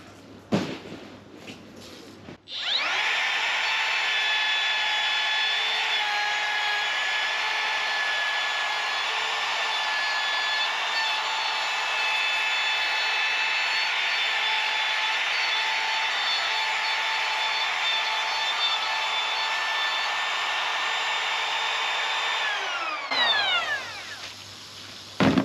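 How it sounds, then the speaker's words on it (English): A router fitted with a trimmer bit cuts a door hinge recess around a template on an external door frame, a loud sustained high whine running for about twenty seconds after a brief start-up, then spinning down at the end. "And then the router's loaded up with a trimmer that Robin Clevett also sells"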